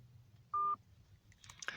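A single clear telephone keypad tone sounds briefly and loudly, followed by faint handset clicks and handling noises, with no talking, as a phone call is placed.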